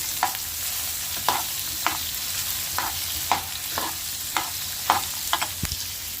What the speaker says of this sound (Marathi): त्याच्यावर कैरी टाकू थोडी परतून घेऊया